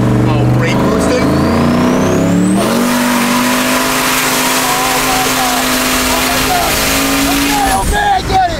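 An 800whp race truck brake boosting at a gas station, its engine roaring loud and steady with a rising, sustained pitch while tires squeal, then the revs cut off sharply near the end.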